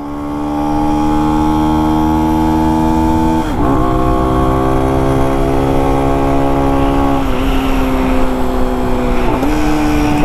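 A Lifan X-Pect enduro motorcycle engine screams at full throttle, holding a loud, steady whine that climbs in pitch, with brief dips at gear changes before rising again.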